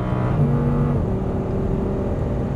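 An Audi R8 engine on a race track pulling hard after an upshift, a loud steady drone with the pitch stepping and then holding as the car accelerates, close to the cabin.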